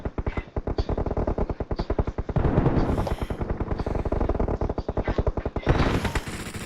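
Rapid automatic gunfire in the PUBG video game hammers out a fast, loud, continuous stream of shots with brief bursts of heavier firing.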